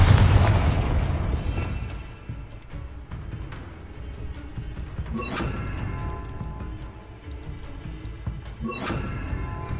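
A Bombarda explosion spell going off in Hogwarts Legacy, a loud booming blast at the start with a rumbling decay, followed by later sharper bangs and crackling debris.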